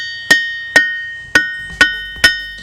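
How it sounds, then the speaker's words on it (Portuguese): Ringing rocks struck with a hammer give five evenly spaced, loud, bell-like metallic tones, each one sustaining and fading before the next strike. "ouvir o som que elas emitem quando são golpeadas com martelo"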